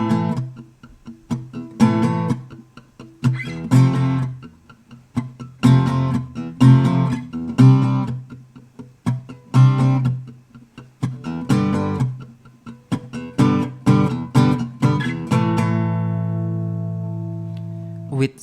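An acoustic guitar strums the chorus of a song in full bar chords, with steady rhythmic strokes and accented hits running throughout, ending on a long ringing chord that fades out.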